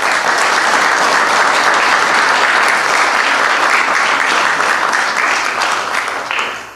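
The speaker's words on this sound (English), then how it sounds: "Let's give these kids a round of applause." A large audience applauds loudly and steadily for a group of high school students at a city council meeting, a dense sustained clapping that tapers off at the end.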